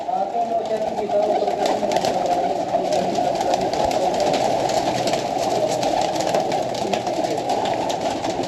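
Soft pigeon cooing repeats over a steady background hum, with low voices murmuring nearby throughout.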